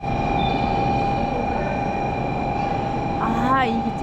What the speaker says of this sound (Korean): 아, 이 기차, 오, 신칸센 실제로 보는 거 처음이에요